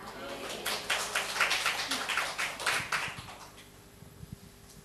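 A church congregation claps for God during a morning sermon, with a run of rhythmic, moderately loud claps that fade out, and a preacher speaking through it.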